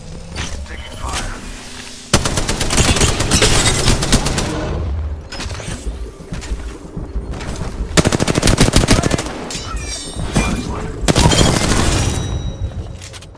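Rapid automatic gunfire in the shooter Apex Legends, long sustained bursts of Spitfire fire separated by short gaps, loud and close, with game voice lines and other battle noise underneath.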